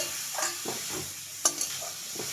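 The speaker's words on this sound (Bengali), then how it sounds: "ভালো করে কষানো হচ্ছে" Goat liver being sautéed with spices in a pan: a soft, continuous sizzle broken by scattered scraping stirs and one sharp metallic clink, close by, with no talking.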